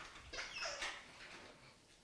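A dog whimpers and whines softly in short, high, thin cries while excited over a piece of packaging during an indoor unboxing, fairly close but not loud.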